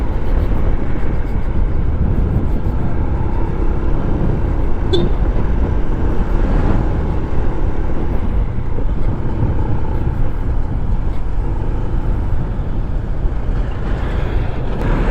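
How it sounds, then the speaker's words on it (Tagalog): Busy road during a fiesta in Pantihan 1, Maragondon, Cavite, with many vehicles passing nearby in a continuous loud rumbling wash of engine and tyre noise. "Daming sasakyan."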